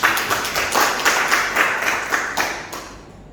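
Audience at an Indonesian student internship send-off event applauding after a village head's address, a loud burst of clapping from a group that fades out over a few seconds.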